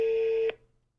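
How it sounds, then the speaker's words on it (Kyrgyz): A telephone call's ringing tone sounds as a single steady electronic hum, clear and close, cutting off abruptly midway and followed by near silence. "телефонду алыңыз"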